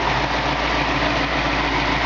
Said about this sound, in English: You can just hear the car.